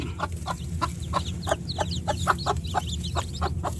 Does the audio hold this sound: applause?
no